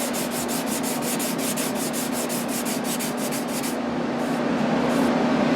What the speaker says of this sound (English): So when you sand, make sure you sand everything.